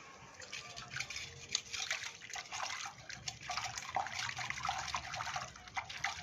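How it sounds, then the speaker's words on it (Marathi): A tomato being washed by hand under running water: soft, uneven splashing and trickling close by, lasting several seconds, with no voices. "प्रत्यक्ष आपण त्याला थोडंसं धुवून घेऊया."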